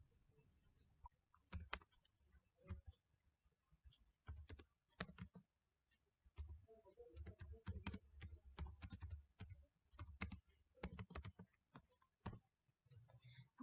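Computer keyboard typing a search query, faint and close, with irregular bursts of key clicks separated by short pauses, no talk.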